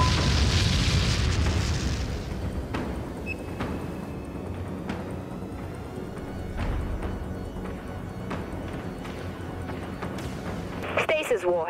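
Warheads strike a ship in the space combat game Dreadnought: a heavy booming blast opens, followed by scattered thuds and impact bursts under game voices, with a final crackling hit near the end.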